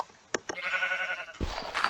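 A Minecraft sheep bleating once, a wavering nasal baa heard close and clear, framed by a few soft clicks and game sounds, with no talking.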